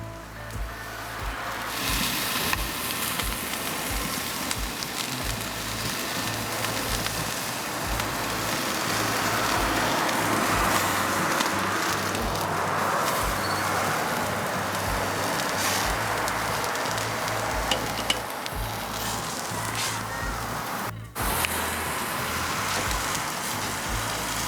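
Double-bone pork chops searing on a grill, giving off a continuous crackling, rain-like sizzle that holds steady with a low background hum and no talking.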